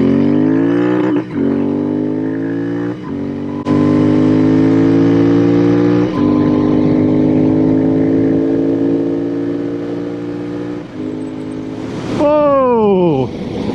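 A custom Royal Enfield Interceptor 650 motorcycle revs loudly and steadily, its pitch climbing and falling through several gear changes during a ride on a highway, ending with a sharp rev drop near the close.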